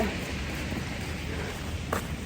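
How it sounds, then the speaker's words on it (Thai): Steady rain falls outdoors during an exercise walk, a continuous broadband hiss with a slight low rumble that holds at an even level throughout, with a brief brighter tap near the end and no voices. "ฝนตกแต่ก็ชอบค่ะ"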